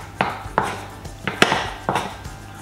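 Choux pastry dough stirred and beaten in a heated saucepan, with a wooden-sounding spatula slapping the thick paste in five or six sharp, close strikes at an uneven, brisk rhythm.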